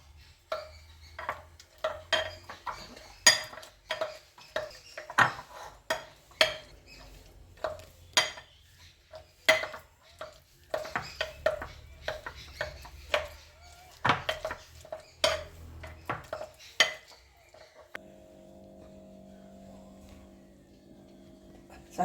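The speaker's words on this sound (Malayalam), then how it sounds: "അത് നമുക്ക് ആ പഴം ഒന്ന് ഉടച്ചു കൊടുക്കാം" Boiled plantain being mashed by hand with rice flour for sweet ada, a rapid run of soft squelching presses and small clicks up close, followed by a quieter steady stretch near the end, with no talking.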